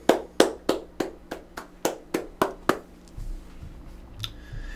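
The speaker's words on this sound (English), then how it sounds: "Round of applause." A small webcast audience claps: around nine crisp, evenly spaced claps close to the microphone, then a quiet room with faint low noise.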